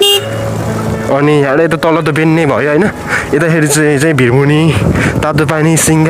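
Loud vehicle horn tones blare repeatedly on a hairpin bend of a mountain road in Nepal, with steady engine noise underneath and someone talking throughout.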